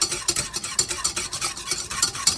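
Cold butter is whisked into a sauce in a pan, heard as quick, rhythmic scraping strokes of a whisk against the metal, close and fairly loud, with a light sizzle underneath.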